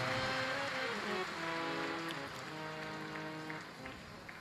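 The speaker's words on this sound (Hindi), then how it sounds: "एक बार जोरदार ताली बजाकर यजमान परिवार के लिए साधुवाद।" A large audience at a Shiv Purana religious discourse gives loud, sustained applause for the host family, a steady rain-like patter that slowly fades, with held musical tones underneath.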